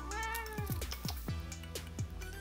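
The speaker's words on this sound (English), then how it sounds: "Y'all, my cat." A pet cat meows repeatedly indoors, a string of short, insistent meows close up in a quiet room.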